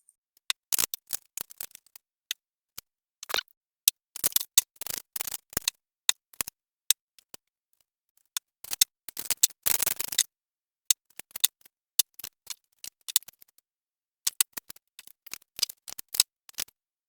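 Tarot cards being shuffled and drawn, heard as dense bursts of crisp papery clicks and flutters in quick clusters with short pauses, close and fairly quiet, with no talking.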